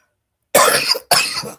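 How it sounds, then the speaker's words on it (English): Two close, loud coughs in quick succession after a moment of silence. "I'm still coughing a little bit"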